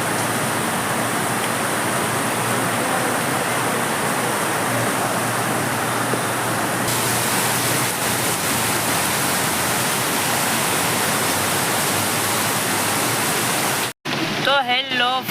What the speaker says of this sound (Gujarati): કાંઈ દેખાતું નથી, એટલો વરસાદ પડે છે.